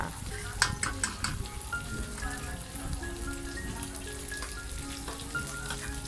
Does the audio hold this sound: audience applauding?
no